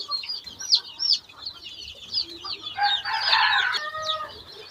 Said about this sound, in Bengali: এটা হচ্ছে দেশি মুরগির বৈচিত্র্যতা